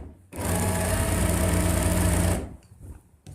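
A sewing machine runs a fast, steady burst of stitching on a ladies suit, close and loud for about two seconds, then stops, leaving a quiet room.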